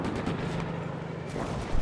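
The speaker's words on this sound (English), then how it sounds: "especially the machine gun, the Hotchkiss. There's a distinct sound that is different from the 42s and whatnot" A Hotchkiss machine gun fires in the World War II desert battle game Combat Mission: Afrika Korps, with rolling bursts of booming shots that blur together against a heavy battlefield rumble.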